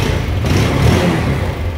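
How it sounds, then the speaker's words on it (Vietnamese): A used late-2019 Honda Air Blade scooter runs close by, giving a loud, steady low engine rumble throughout with no speech. "Xe này thì nổ máy dễ thì mình nổ cho mọi người được nghe luôn."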